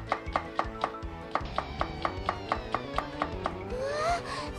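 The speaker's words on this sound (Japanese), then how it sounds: "包丁はこうやって使うの。" A kitchen knife chops vegetables on a board in the Sega Saturn game Grandia, a fast, steady series of about a dozen crisp knocks over soft background music, ending in a brief rising tone.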